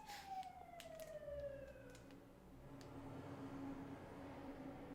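Emergency vehicle sirens wail outside a home, a faint, distant siren sweeping down in pitch over steady low background rumble, heard without talking.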